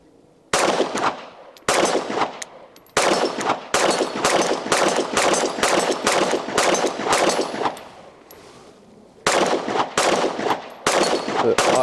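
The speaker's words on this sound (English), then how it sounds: "We are gonna put some rounds through this thing. This is the first rounds fired." A Glock Gen6 pistol fires a long string of loud, sharp rounds at close range, shots coming in rapid bursts with brief pauses between groups.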